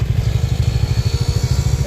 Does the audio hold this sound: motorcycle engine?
yes